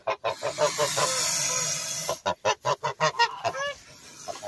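A brooding goose sitting on hen eggs honks repeatedly at close range, first in a harsh continuous stretch, then in a rapid run of sharp, separate honks.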